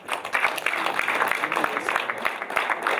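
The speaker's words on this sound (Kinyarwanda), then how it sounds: "munize amashyi ubatumeho" Wedding guests at a Rwandan gusaba bride-price ceremony break into scattered applause, close uneven claps over a murmuring room for a few seconds.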